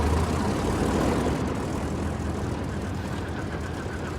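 Airplane engine drone in Mad Max Beyond Thunderdome, a loud steady propeller roar with heavy low rumble and broadband noise, holding at constant level throughout.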